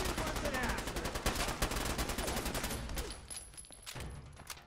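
Rapid automatic gunfire in the video game Fallout 4, dense bursts of shots in quick succession, loud at first and tapering off toward the end.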